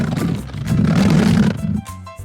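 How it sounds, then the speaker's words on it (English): A lion roars in a children's animal alphabet, a loud, rough, low growling roar that swells and holds for about a second and a half before cutting off, with a short tonal musical tail after it. "Hear that roar? Lions are known as the kings of the jungle."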